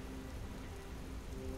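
Rain falls in The Elder Scrolls V: Skyrim Special Edition, a steady dense patter on surfaces with a low rumble beneath, continuous and without voices.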